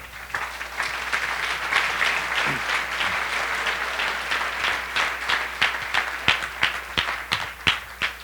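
A church congregation at a Sunday service breaks into loud, full applause that thins into scattered, distinct claps near the end, with a little crowd murmur behind it.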